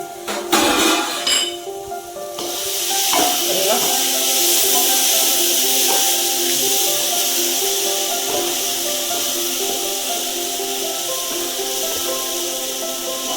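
A spoon scrapes and stirs Dindigul Thalappakatti biryani masala in a pot. Clanks and rubbing open the clip, then a steady hiss of cooking takes over, with a voice speaking near the start.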